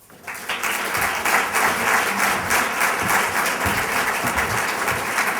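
Lecture audience in a UAB hall breaks into applause as the speaker is welcomed to the stage, the clapping rising quickly at the start and then holding steady and full.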